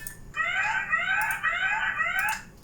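A printer's 'printing done' alert chime plays in preview mode: a short, bright electronic melody of warbling tones lasting a couple of seconds, clear and alone.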